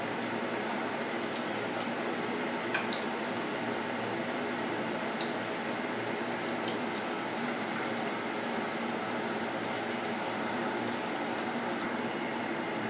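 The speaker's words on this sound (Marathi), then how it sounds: "तर आता आपण त्याला उलटावूया आणि क्रिस्पी होईपर्यंत आपण तळून घेऊया।" Snacks deep-frying in hot oil until crispy, a steady, dense bubbling hiss that holds at an even level throughout with small scattered crackles and no voices.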